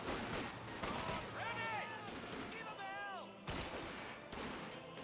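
Gunfire from Company of Heroes 2, rapid rattling bursts and heavy shots from artillery and machine guns in a woodland battle, faint under a caster talking over the action.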